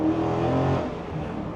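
A 2022 Dodge Challenger Scat Pack with a V8, right-hand-drive converted, revs its exhaust in a loud, deep burble close by that swells briefly and then eases off.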